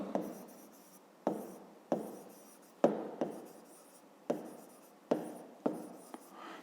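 A pen writes numbers on paper in a fifth-grade maths exercise: a series of about eight short scratchy strokes, each starting with a sharp tap and fading, close and fairly quiet, no talking.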